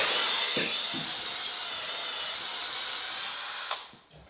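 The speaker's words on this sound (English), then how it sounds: "then give it another go with the mechanical mixer" A mechanical mixer stirring two-part epoxy grout in its container gives a steady, close, high-pitched whirring drone that holds for several seconds and then cuts off near the end, with no talking.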